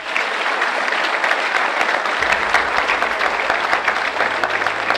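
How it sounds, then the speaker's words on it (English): Steady round of applause from the audience at a senior athletic awards ceremony, honoring four senior student athletes; dense, even clapping from a sizable crowd filling the whole stretch at a fairly loud level. "Can we please have a round of applause for these 4?"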